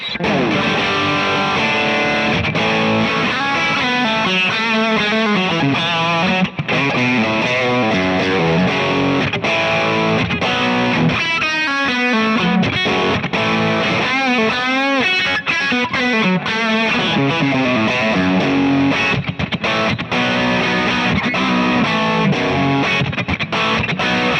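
Loud electric guitar through amp-modeler profiles with heavy delay and reverb, chords and notes ringing out and smearing into a dense wash, playing continuously with no talking.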